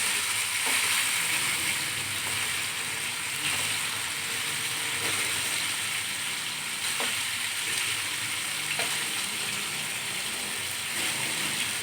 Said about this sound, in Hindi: चिकन अच्छी तरह भुन गया है।